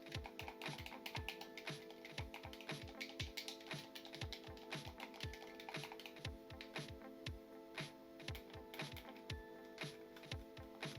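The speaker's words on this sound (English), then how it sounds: "it's membrane keys and it feels mushy to click" Membrane D-pad buttons on a REDMAGIC Shadow Blade Gamepad 3 clicked over and over in a fairly steady rhythm, each press a soft, dull, mushy tap heard close up and quiet, with no talking.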